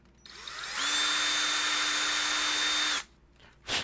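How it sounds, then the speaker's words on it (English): A handheld power drill spins up, whines loudly and steadily for about two seconds, then stops abruptly, followed by a short mechanical clunk, close and alone with no talk. "Power tools, ladies and gentlemen."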